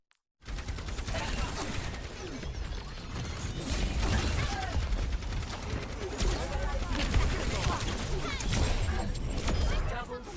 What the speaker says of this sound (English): Not a bad pulse bomb.